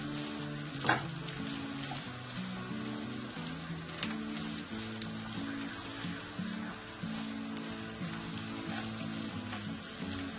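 Meat fries in a pot with onions and carrots for Uzbek pilaf, giving a soft, continuous crackle and patter of oil beneath steady background music, with an occasional sharper click.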